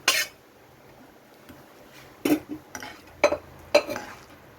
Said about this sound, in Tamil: வாங்க இந்த பட்டாணியை கொட்டி எல்லாத்தையும் நல்லா மிக்ஸ் பண்ணிடலாம்.